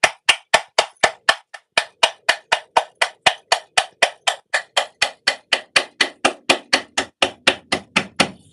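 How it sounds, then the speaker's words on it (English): Steady hammer blows on a chisel carving stone to level and texture a base for a football crest, about thirty sharp, evenly spaced strikes, close and loud, with no talk. "Then you can get a bigger chisel"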